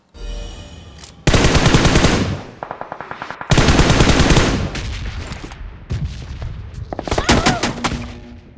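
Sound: gunfire in a mobile battle royale video game

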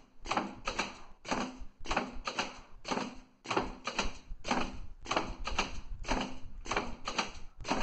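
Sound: PLC machine cutter cylinder cutting sheet

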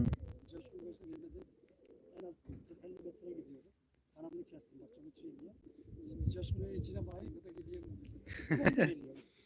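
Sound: pigeons cooing

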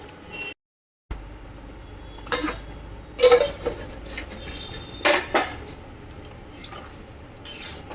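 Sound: stirring vegetables in a cooking pot

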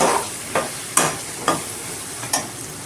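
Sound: masala frying and being stirred with drumstick in pan

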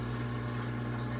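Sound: EUHOMY nugget ice maker running, water pumping

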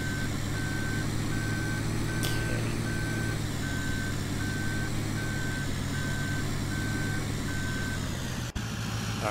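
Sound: truck reversing beeps in Farming Simulator 17 video game

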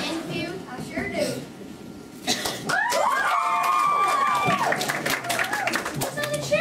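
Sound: crowd cheering

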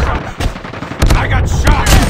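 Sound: gunfire in a first-person shooter video game

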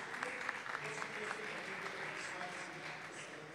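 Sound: applause

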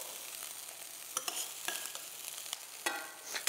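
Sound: onions browning in a pan

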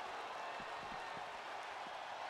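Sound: arena crowd in WWE 2K22 video game

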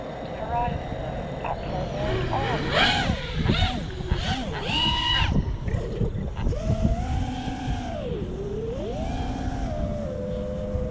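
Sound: drone propellers flying in wind

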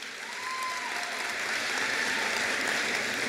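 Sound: cheering crowd applauding at college convocation

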